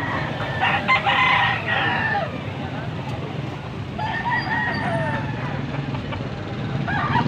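Wet chickens and roosters in light drizzle crow in two long, strained calls over constant outdoor farmyard noise and low clucking.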